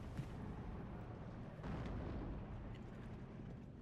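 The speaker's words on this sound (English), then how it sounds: "Ammo in for the 81 mil mortars going after this 82 mil mortar" 81 mm mortars fire in the wartime strategy game Steel Division 2, a few muffled, distant booms and thuds over a low rumbling battlefield background, faint and without speech.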